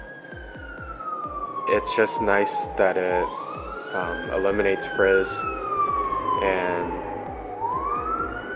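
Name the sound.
emergency vehicle sirens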